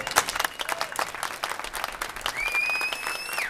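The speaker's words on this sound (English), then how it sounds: "let's just have a big round of applause for everybody here." Audience applause for a panel at a cannabis policy debate during the Seattle 2012 Medical Cannabis Cup, a dense steady patter of many hands, with a faint whistle-like tone rising near the end.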